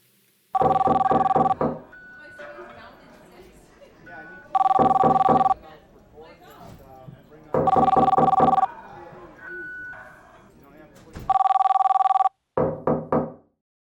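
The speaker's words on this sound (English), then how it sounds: "the telephone ringing is coming from the left side and the door knocking from the right side" A telephone rings in four loud bursts, alternating with rapid knocking on a door between them, ending with a short series of knocks.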